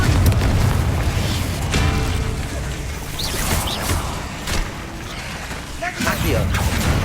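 A Confringo fire spell bursts with a booming explosion in Hogwarts Legacy, set in a dense, loud game mix of rumbling impacts and effects.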